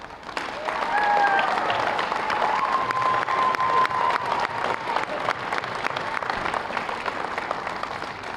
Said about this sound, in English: give her a well-deserved round of applause, Miss Cope.